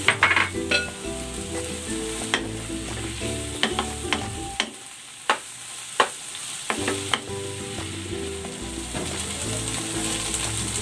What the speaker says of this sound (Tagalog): Ilalagay ko na itong siling green